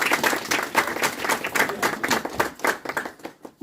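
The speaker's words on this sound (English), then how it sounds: "We'll give a round of applause." An audience claps steadily throughout, a dense patter of many hands in an indoor lecture setting, fading slightly toward the end.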